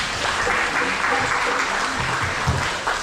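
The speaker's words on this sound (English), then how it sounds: "I want to give him a round of applause." An audience at a Diwali celebration in West Palm Beach, Florida applauds the consul, a steady, full round of clapping with crowd noise that holds throughout.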